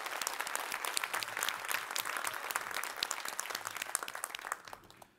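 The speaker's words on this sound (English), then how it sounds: "I want to take this time now for all of us to give you a round of applause" An audience at a Stanford event applauds in a sustained round of crisp, dense clapping with individual sharp claps standing out, tapering off at the end.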